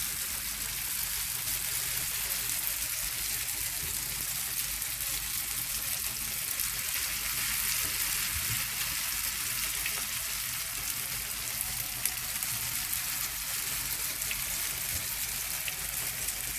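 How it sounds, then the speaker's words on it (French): Bourek pastry sheets frying in very hot oil, a close, steady crackling sizzle that continues evenly and alone throughout. "On laisse frire quelques minutes, enfin plutôt quelques secondes."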